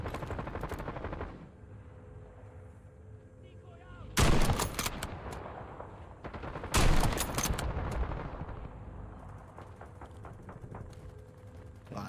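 Bursts of gunfire in Call of Duty on Rebirth Island, with two loud, dense volleys of rapid shots standing out over quieter scattered shooting and game noise.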